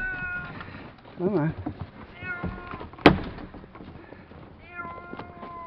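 An unhappy cat meows several times, drawn-out and complaining, close by, with a sharp thump partway through and a person speaking between the cries.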